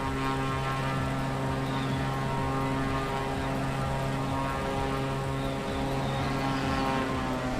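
A propeller aircraft landing on runway 27 in Microsoft Flight Simulator 2020, a steady droning engine hum with a sustained tonal buzz, even in level and unbroken throughout.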